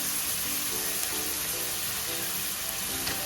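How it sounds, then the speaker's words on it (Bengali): Ginger-garlic paste, green chillies, chopped tomato, turmeric, salt and chilli powder sauté in a pan with a steady, even sizzling hiss that runs the whole time, close and moderately loud, with a faint low hum beneath it. "এটাকে আমি এখন কিছুক্ষণ কষিয়ে নেব"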